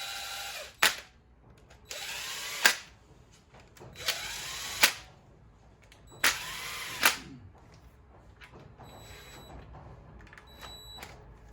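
A power drill snugs up bolts on an engine in a series of short, loud whirring bursts about a second each with quiet gaps between, fainter clicks and clinks trailing off at the end.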